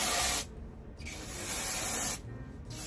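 Hairspray from an aerosol can is sprayed close onto thinning hair for volume during an updo, in two hissing bursts: a short one first, then a longer, steady spray.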